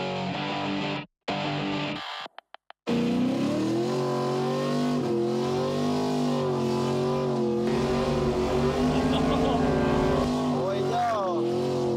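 A carbureted Pontiac Parisienne drives hard, its engine revving and accelerating loudly in rising and falling sweeps after a couple of brief cutouts, with people talking over the steady roar.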